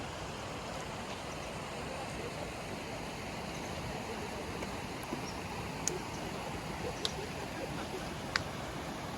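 River in Okutama flowing with a steady, broadband wash of moving water, fairly quiet and continuous, with a few faint clicks on top.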